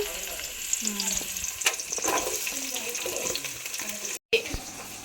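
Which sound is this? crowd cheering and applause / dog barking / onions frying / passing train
onions frying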